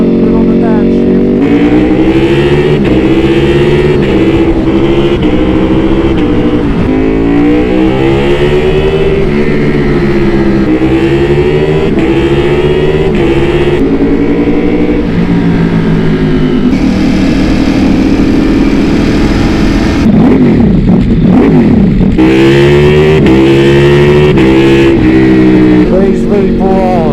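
A Ducati Panigale V4R with an Akrapovic race exhaust, 240 horsepower, roaring loud and close through repeated rising gear pulls and downshifts with engine blips, a sustained aggressive V4 wail throughout.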